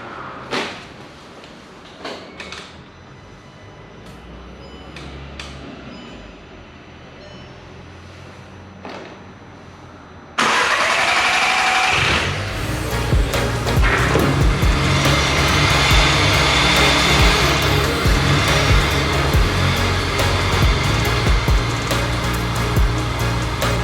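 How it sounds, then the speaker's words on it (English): After about ten seconds of quiet clicks and tapping, a newly installed engine in a VW Golf R Mk6 suddenly bursts to life and keeps roaring loudly and steadily, revving close by. "the engine starts"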